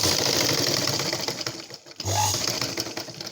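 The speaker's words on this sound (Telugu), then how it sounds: "ఇప్పుడు స్టిచ్చింగ్ చేయడం చూపిస్తున్నానండి" An electric sewing machine stitches darts on a blouse with a fast, steady mechanical whir, pausing briefly midway before running again, close and loud.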